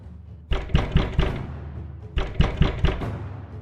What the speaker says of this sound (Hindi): उसके दरवाजे पर किसी के नॉक करने की आवाज आई।